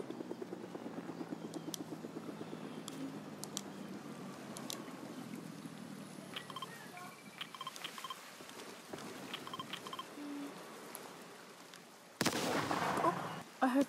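Helicopter in a video game, its rotor chopping steadily at a distance, then a sudden loud burst of noise near the end as it explodes.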